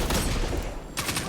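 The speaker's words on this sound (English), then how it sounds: "Shots at Robin Hood, take him out." Gunfire in the video game Destiny 2, a rapid burst of close shots followed by a short pause and a second burst.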